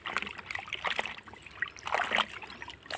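Clothes are swished and rinsed by hand in clean water after an Ezee wash, giving soft, irregular trickles and splashes, close but quiet, with no talking.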